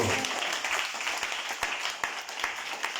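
A congregation at an evangelism campaign meeting claps loudly and continuously, a dense roomful of hands with a few sharper individual claps standing out, with voices faintly mixed in.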